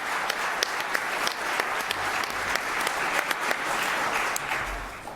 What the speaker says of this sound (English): if you guys would give him a round of applause again